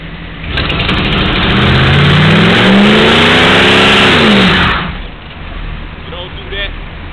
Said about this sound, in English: I'll show y'all how a real car is supposed to sound when you crank it